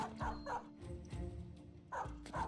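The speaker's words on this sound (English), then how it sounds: "we have 4 dogs on the field right now" Dogs bark in the Battle Brothers video game: several sharp yips and bow-wows in bursts, with short whimpering gaps between them, fairly close and clear.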